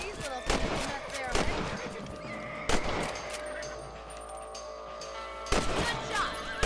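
Rifle shots at rabbits in Red Dead Redemption, three or four sharp, loud reports spaced a couple of seconds apart, each ringing out over quiet outdoor ambience with faint calls in between.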